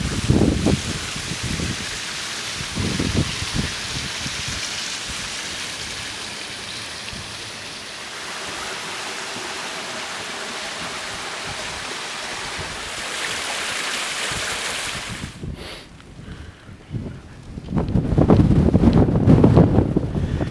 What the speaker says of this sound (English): the wind is coming this way, but it's not too strong